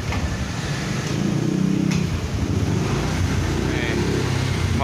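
A motorcycle that had sat unused for a long time with stale fuel, its engine running steadily after starting, a loud, continuous close-up idle with no talk.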